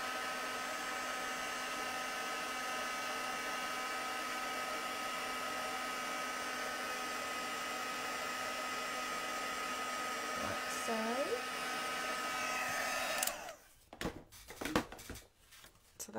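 A heat embossing tool blows hot air over embossing powder on a card, a steady close whirring hum lasting around thirteen seconds before it switches off, followed by a few handling knocks and rustles.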